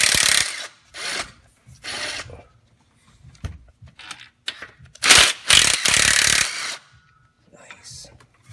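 A hand ratchet works 15mm nuts off the front of a Ford 5.4L three-valve engine, giving repeated bursts of quick clicking strokes separated by short pauses, close up and loud.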